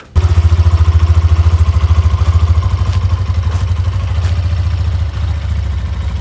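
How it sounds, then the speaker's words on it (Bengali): A Hero Xtreme 125R 125cc motorcycle engine idles close by with a fast, even exhaust thump, a steady low throb that dips slightly toward the end. "let's hear this bike exhaust and engine sound."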